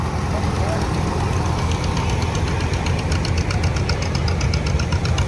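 A green John Deere tractor engine runs steadily at a tractor show, a continuous loud, rough rumble with a knocking, pulsing texture throughout and no pauses.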